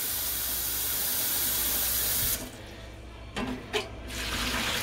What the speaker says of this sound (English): I'm going to fill up to about 5 quarts of water.